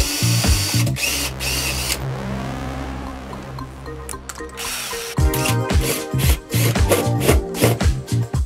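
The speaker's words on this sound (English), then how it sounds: "You'll see I'm kind of pulsing the drill." A power drill is pulsed in short bursts while boring a hole into boxing inside a wall during a network cable run, each whining burst loud and close with brief pauses between, ending in a rapid series of choppy starts and stops.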